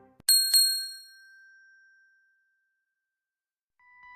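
A bright metallic bell rings twice in quick succession, a clear near ding with a long ringing decay that fades into silence, followed by a faint tone at the very end.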